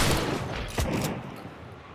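Gunfire in the video game Hunt: Showdown 1896 bursts out loud and close, several sharp shots and booms crowding together at the start with a heavy blast near the middle, then tailing off into echoing reverberation.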